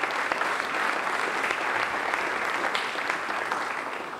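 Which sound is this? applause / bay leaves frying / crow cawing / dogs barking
applause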